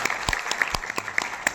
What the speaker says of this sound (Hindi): उनका भी जोरदार तालियों से स्वागत किया जाए